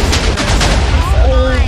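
A dense burst of video game explosions and rapid gunfire-like blasts, loud and continuous over a short stretch, with rumbling low booms and crackling bursts layered together.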